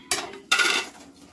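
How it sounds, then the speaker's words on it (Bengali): Brinjal pieces tossed with salt and turmeric in a metal dish give two quick, bright clanks of utensil against the dish, close up and clear, with no talking. "যে বেগুনগুলো ভাজব সেগুলোর মধ্যে লবণ আর হলুদ মিশিয়ে নেব"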